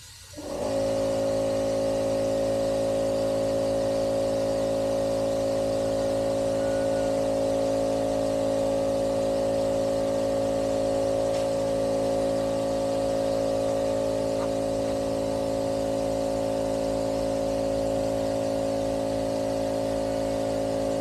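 Steady engine noise from the front of a 1986 Pontiac Trans Am motor, heard up close and running at a constant idle-like hum with no revving, loud and continuous throughout.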